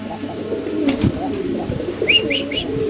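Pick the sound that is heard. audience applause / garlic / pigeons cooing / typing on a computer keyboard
pigeons cooing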